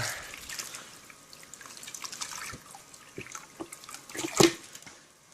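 Water trickles and drips into a container during gold panning, with soft irregular splashes and one sharper splash near the end, fairly quiet and close, with no voices.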